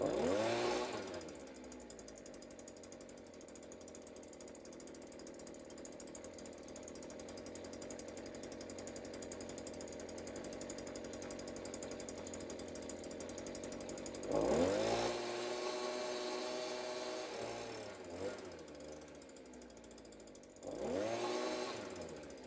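Small two-stroke blower or chainsaw engine idling steadily after old fuel was swapped for new, a close buzzing drone that holds constant with a couple of brief revving surges.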